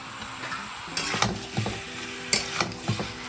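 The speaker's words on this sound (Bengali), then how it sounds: "এই যে চিকেন কষা হচ্ছে" Chicken pieces sautéing in a pan on the stove, a steady close sizzle broken by repeated scraping strokes of a spatula against the pan, no one talking.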